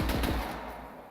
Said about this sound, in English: we can see that we have a Vladoff pistol. And if we just fire regularly, we just fire bullets.